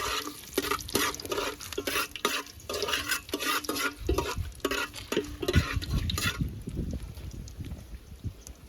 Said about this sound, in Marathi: परतवूया.